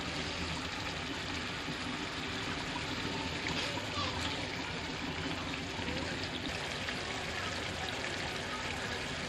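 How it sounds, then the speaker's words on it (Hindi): Chicken pieces added to sizzling masala in a pot for daleem: a continuous crackling, frying sizzle with a person talking over it throughout. "अब हम इसके अंदर चिकन डालेंगे।"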